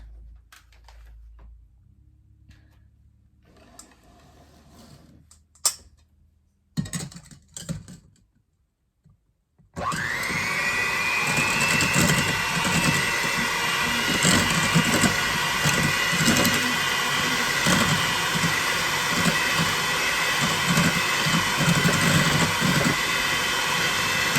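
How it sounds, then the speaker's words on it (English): An electric hand mixer whisks melted melt-and-pour soap into whipped soap, starting abruptly partway in after quiet handling noises and then running as a loud, steady motor whir with a rattling beater texture until the end. "we're going to go ahead and use our hand mixer and just kind of give it a nice whisk"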